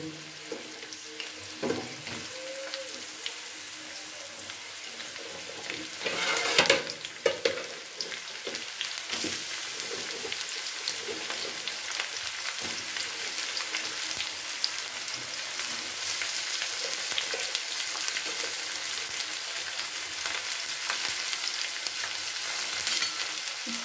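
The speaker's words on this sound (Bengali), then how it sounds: "পেঁয়াজ, রান্না আলু সমস্ত কিছু একসাথে আমি ভেজে নেব।" Onion and cooked potatoes fry together in a pan with bitter gourd, a continuous crackling sizzle with occasional louder stirring clatters, heard alone without talk.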